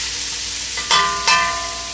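Shrimp chow mein stir-frying in a pan, a steady sizzle with two brief louder bursts as the food is tossed.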